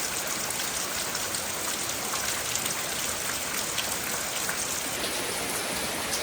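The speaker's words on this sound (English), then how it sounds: "It has rained every single day for the last several days." Rain falling steadily on a jungle, a dense, even hiss of countless drops pattering on foliage and surfaces, continuous and fairly loud with no voices.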